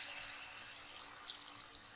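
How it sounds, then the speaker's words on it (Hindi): Tap water pouring steadily into a bowl of mung beans for soaking, a faint continuous splashing rush heard alone for a couple of seconds. "तो पानी को हम भरपूर मात्रा में डालेंगे।"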